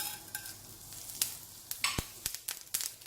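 Mustard seeds, urad dal and cumin hit hot sesame oil in a pan for a Chettinad cluster bean pachadi, giving soft frying hiss punctuated by a string of sharp, irregular pops and crackles, close up with no voices.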